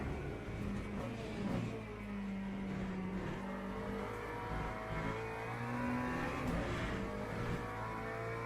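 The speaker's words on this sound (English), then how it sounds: "it's the first time I just drive the McLaren on kind of autopilot" A McLaren race car in the Le Mans Ultimate racing game drones steadily at high revs, its engine note rising and falling through gear changes as it drives on with no pauses.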